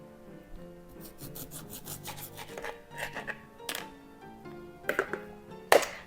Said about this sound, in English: Firstly, we need to juice half a lime.